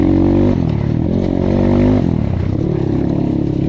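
A KAYA 612 motorcycle is ridden hard off-road, its engine droning loud and close with a continuous buzzing note that drops and climbs again at two gear or throttle changes. No one talks.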